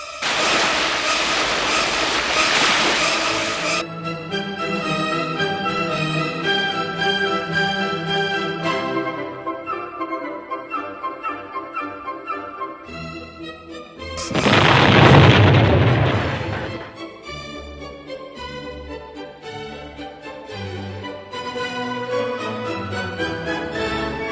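A submarine firing a weapon, heard as a loud roaring burst at the start, then a deep whooshing blast partway through, set among layered dramatic music.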